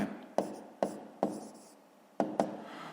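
Handwriting on paper during a fifth-grade maths exercise, soft scratchy strokes punctuated by five sharp taps of the pen, close and quiet.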